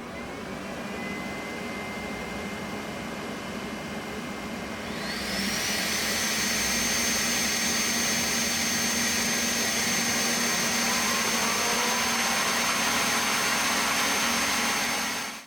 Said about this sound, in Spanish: se escuchan los tres ventiladores cuando los enciendo a la máxima velocidad